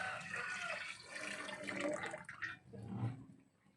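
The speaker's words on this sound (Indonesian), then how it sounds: "yang seterusnya kita tuang air sebanyak ini ya" Water splashes and pours into a pot while making tapai, a traditional Sabah rice drink, a steady running flow up close that swells and fades over a few seconds.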